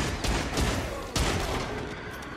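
Rapid gunfire from the shooting game Until Dawn: Rush of Blood, a few close, loud shots in quick succession with a sharp crack partway through, no talking.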